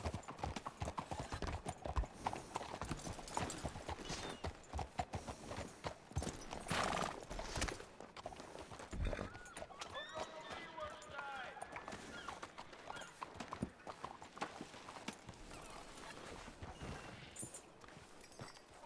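A horse in a western video game trots and gallops, its rapid hoof clip-clops running continuously with occasional whinnies, while people talk over it throughout.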